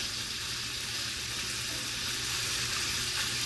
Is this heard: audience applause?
no